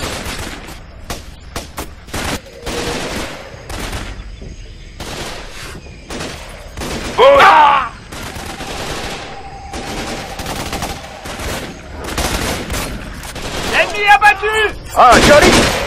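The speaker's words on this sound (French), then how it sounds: "Faites gaffe, ils ont encore tiré." Sharp bursts of automatic and single-shot gunfire crack repeatedly during a jungle firefight in the squad shooter game Raven Squad. Several louder volleys stand out, with brief gaps between the bursts and occasional voices underneath.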